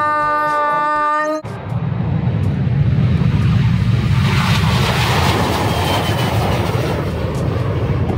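A toy airplane gives a loud, steady whirring roar that holds for about seven seconds, preceded by a brief burst of tinny tonal toy music at the start.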